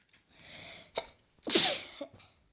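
A single close, loud sneeze, with a short breathy intake before a sharp burst, heard during a Craftsman building game session with no talking.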